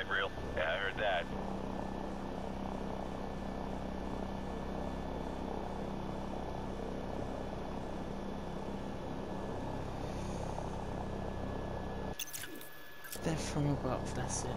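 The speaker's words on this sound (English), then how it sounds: "Friendly helicopters entering the area." Friendly helicopters fly overhead in Call of Duty: Modern Warfare Remastered, a steady rotor drone running under the game's sound mix. It drops out briefly near the end.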